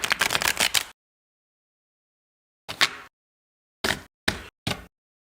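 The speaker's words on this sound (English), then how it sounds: "I shuffle all these, but I like to warm them up a little." Tarot cards are shuffled by hand, a fluttering, tapping run of about a second followed after a pause by several short, separate card riffles or taps, close and isolated with silence between.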